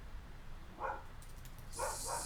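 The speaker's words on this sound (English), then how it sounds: "Excuse the barking dogs." Dogs bark a few times at a distance, short muffled yips heard faintly over a steady background hiss with no one talking.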